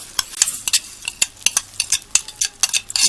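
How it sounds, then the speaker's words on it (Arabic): Rice stir-fried with vermicelli in ghee in a pot, rapid close scraping and clinking of a spoon in quick irregular strokes over a faint sizzle, loud and busy. "بشوح الرز مع الشعريه"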